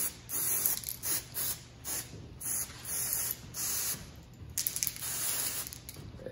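KMS temporary hair color spray in blue hisses from the can in a series of short bursts, about eight close sprays with brief pauses between and no talking.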